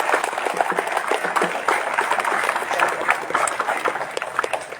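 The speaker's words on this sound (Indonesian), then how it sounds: "Tepuk tangan untuk semangat." Students at a school ceremony for the installation of a school security patrol unit applaud in a lively, uneven burst of many hands, moderately loud and tapering off, with faint voices mixed in.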